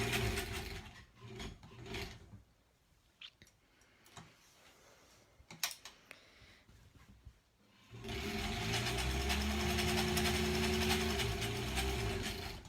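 A sewing machine stitches a quilt block with Aurifil thread, first in scattered ticking clicks and short starts, then in a loud, steady continuous run of rapid mechanical stitching up close.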